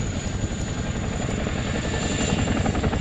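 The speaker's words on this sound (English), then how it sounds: "he's going to come back into the hover facing all of you to say one big goodbye from the Chinook display for 2022 at Cosford" A Chinook helicopter hovers at the Cosford airshow display in 2022, its heavy, continuous rotor thrum and engine roar loud and steady throughout.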